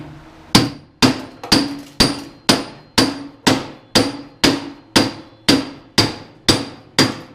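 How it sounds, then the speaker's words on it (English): A rapid, steady run of about thirteen hard hammer strikes knocking a bearing out of a snowblower transmission, each with a short clanging ring, close up and uninterrupted by speech. "Guess I'll just keep hammering."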